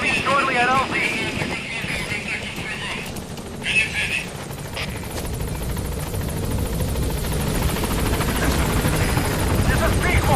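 The Pequod helicopter in Metal Gear Solid 5 approaches a landing zone, its rotor throbbing loud and steady for the whole stretch under brief radio voices and other game noise.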